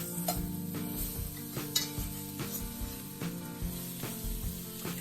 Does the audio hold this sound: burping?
no